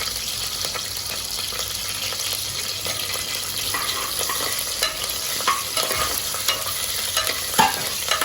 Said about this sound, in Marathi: थोडेसे मसाले परतून घ्या कारण मसाल्यांना थोडासा फ्लेवर आला पाहिजे